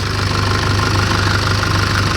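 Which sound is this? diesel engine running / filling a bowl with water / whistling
diesel engine running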